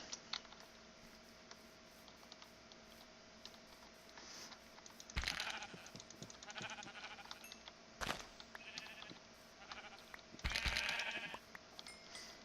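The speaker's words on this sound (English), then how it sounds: "Alright, I see you here, sheep." Sheep bleating in the game Minecraft, a few separate bleats spaced across the stretch over a steady low background hum, moderately loud and without talk.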